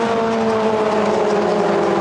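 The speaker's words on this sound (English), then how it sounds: "on board with Kieran Haggerty as they swoop down through the Craner curves for the first time" A BRDC Formula 4 single-seater race car sweeps through the Craner Curves at Donington Park, its engine a loud, steady, sustained drone heard close up from on board, with no pauses.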